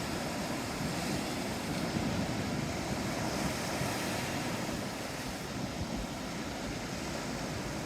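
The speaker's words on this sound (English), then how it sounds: "Enjoy the sound of the waves." Steady roar of sea waves washing in, broad and continuous with wind rumble, no distinct breaks and no one speaking.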